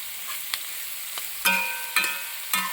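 Onions frying in a pan for a mixed vegetable kurma, with a steady soft sizzle broken by three or four sharp scraping stirs of a spoon against the pan.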